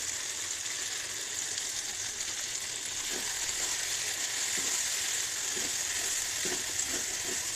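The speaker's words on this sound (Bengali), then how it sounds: "এখন এই চিংড়ি মাছগুলো দিয়ে দেবো।" Prawns sizzling in a pan of hot oil with nut paste: a steady, bright frying hiss that runs the whole time, with faint stirring clicks partway through and no voices.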